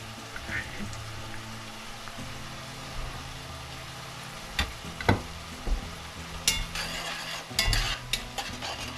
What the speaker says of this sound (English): The onions are getting cooked.